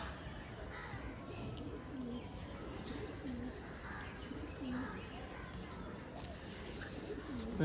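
A female pigeon at a bird market coos in soft, repeated low calls spaced a few seconds apart over steady crowd murmur and background bustle, with faint chirps mixed in.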